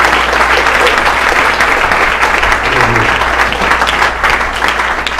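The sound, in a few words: church congregation applauding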